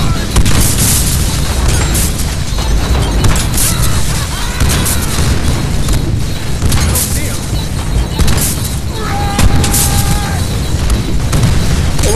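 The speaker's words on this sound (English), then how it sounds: "All the explosions!" Explosions and booming blasts in the Deadpool PC video game fill a dense, loud, continuous stretch of game audio, with repeated bursts and crackling layered under one another throughout.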